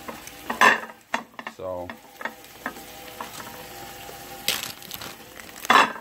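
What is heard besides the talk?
meat browning in a pan for quesadillas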